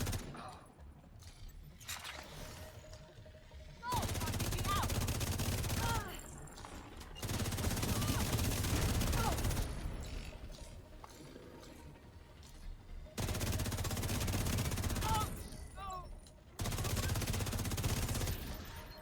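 Sustained automatic gunfire from the video game The Division 2 comes in several loud, dense bursts separated by short gaps, with brief mechanical clicks in between.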